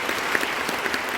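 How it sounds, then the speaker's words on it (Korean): Applause from the audience at the eve-of-festival ceremony for the 29th Bucheon International Fantastic Film Festival in Korea, a dense, steady clatter of many hands filling the room for a brief moment with no talk over it. "박수 한번 주십시오."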